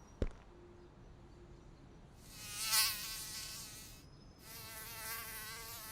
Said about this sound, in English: The mosquitoes started biting us.